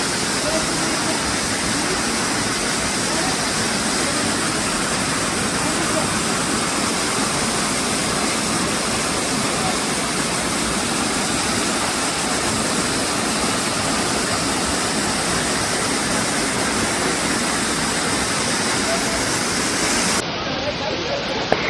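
Waterfall at Ezharakkund near Paithalmala, Kannur, roaring as a loud, unbroken wash of rushing water that fills the whole stretch and ends abruptly.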